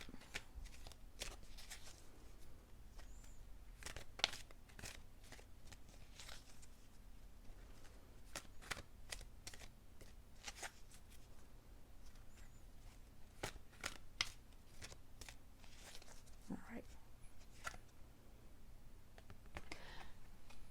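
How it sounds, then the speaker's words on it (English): Tarot cards being shuffled with quick, crisp riffling and snapping bursts, repeated in short runs over a quiet background with no talking. "I'm just going to give them another quick little shuffle"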